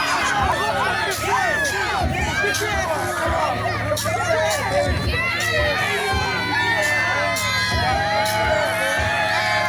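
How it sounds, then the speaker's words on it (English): Loud, dense crowd at a live wrestling event cheering and shouting with whoops throughout, a steady roar of voices filling the arena. "this crowd is on fire here tonight"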